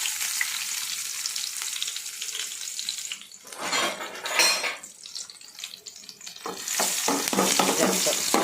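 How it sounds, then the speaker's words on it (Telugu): Garlic is tipped into hot oil and fries with a steady crackling sizzle, while a utensil scrapes and stirs against the pan and metal clinks as the frying noise rises and falls. "ఇప్పుడు ఆయిల్ కాగుతుంది వెల్లుల్లిపాయలు వేసేద్దాం"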